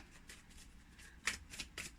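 A deck of cards being cut and shuffled, a quiet soft riffle and patter that ends in a few sharper snaps close by, with no voices.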